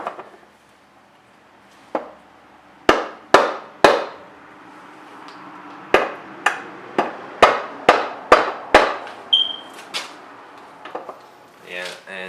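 Repeated sharp blows from a non-metal hammer striking a car differential during a limited-slip differential install on a Ford Focus ST; about a dozen close, loud impacts, spaced irregularly then in a quicker run, with a brief squeak near the end.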